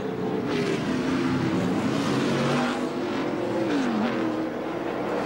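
A NASCAR race car pulls away from pit road after a four-tire stop at Atlanta. Its engine roars loudly and continuously, the pitch rising and sliding as it accelerates, with no talk over it.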